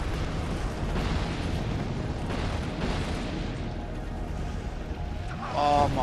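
Fire roars continuously in Dark Souls II, a dense, steady rushing blaze that stays loud throughout, with a brief swell near the end.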